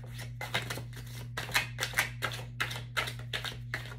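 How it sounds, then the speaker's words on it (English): A deck of cards being shuffled by hand at a table during a tarot-style reading, giving about nine crisp riffling bursts in a steady rhythm, close and clear over a low steady hum, with no talking. "One more shuffle."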